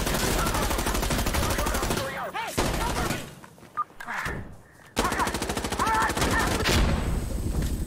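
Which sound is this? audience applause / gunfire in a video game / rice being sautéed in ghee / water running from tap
gunfire in a video game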